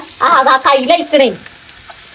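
Food, with spice powder added to roast first, sizzles and fries in a pan as a steady hiss beneath a person speaking close by.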